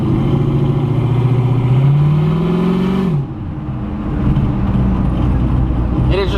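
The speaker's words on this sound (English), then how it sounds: "It's too loud, let's get out of here." Loud turbocharged Chevrolet Camaro engine revving hard, pitch climbing steadily before cutting off, then settling into a rough, throaty idle close by.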